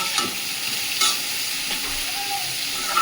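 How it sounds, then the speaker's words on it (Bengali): Vegetables sautéing in a pan give a steady close sizzle and hiss, with a few brief scrapes of stirring scattered through and no talking. "সবজিটা খুব ভালো করে কষিয়ে নিয়েছি"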